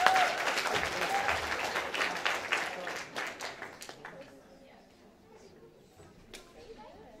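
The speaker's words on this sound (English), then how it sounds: "that's applause" Audience applause at a school battle of the bands, a dense burst of clapping and cheering from a crowd that fades gradually over several seconds, with a few scattered claps trailing off at the end.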